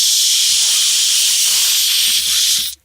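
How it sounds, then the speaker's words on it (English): An aerosol can spraying in one steady, loud, close hiss lasting under three seconds before cutting off abruptly. "Spraying an aerosol can."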